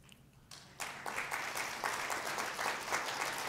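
An audience at a freedom conference breaks into applause after a quiet moment, the clapping starting abruptly and building to a steady, moderately loud patter.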